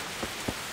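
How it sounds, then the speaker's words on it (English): Steady rain hisses softly in the video game Kingdom Come Deliverance, a faint even wash of falling water with two brief soft taps breaking through, with no voices. "oh, it's actually starting to rain."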